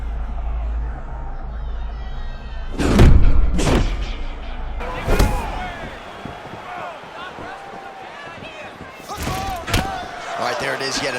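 Strikes thudding against a fighter's bruised body in EA Sports UFC 6, a few heavy, close impacts landing in quick succession, with crowd noise behind and commentators talking over them.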